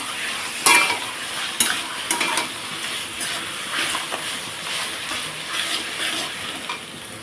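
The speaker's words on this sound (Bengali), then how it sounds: "কচু শাকটা কিন্তু ভালোভাবে ভাজতে হবে" Taro leaves (kochu shak) frying in a pan give a steady broadband sizzle with scattered clinks and scrapes of stirring, loudest early on, with no voices.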